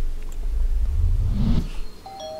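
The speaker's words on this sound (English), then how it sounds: "I'll ring the bell." In the video game Little Misfortune, a doorbell rings once with a short chime over a low rumble, followed by a faint lingering tone.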